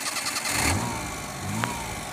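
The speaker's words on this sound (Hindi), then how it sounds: "भैया यू तो होगी गाड़ी स्टार्ट" A Maruti 800 car engine, converted to drive a tubewell pump, cranks and catches, then settles into a low, steady running drone, loud and close with no talk.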